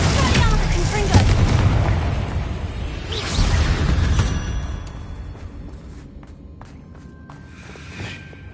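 Confringo fire spell cast in Hogwarts Legacy on PS5: a loud fiery burst and boom with whooshing blasts over dense game noise, fading to a quieter rumble with faint ringing tones.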